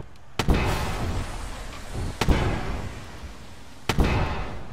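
Ship cannons in the space game Wayward Terran Frontier fire three sharp, loud blasts at uneven intervals, each followed by a rumbling roar that decays slowly.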